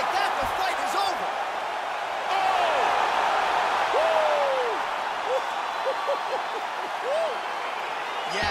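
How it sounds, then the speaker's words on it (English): Crowd cheering and roaring after a knockout in the EA Sports UFC 4 fighting game, a steady broad wash of arena noise with whoops that carries on without pause, under scattered game sounds. "crowd loving it"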